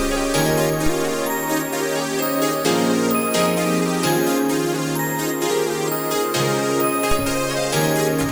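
A 90s-style R&B slow jam beat built in FL Studio plays steadily with sustained warm chords, a deep bass line and a soft repeating drum pattern, full and loud throughout with no talking.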